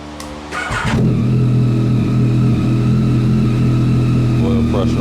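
A Yamaha Tracer 9 GT motorcycle cranks and fires up after a brief quiet moment, then settles into a loud, steady close-range idle with a deep rumbling hum that holds to the end.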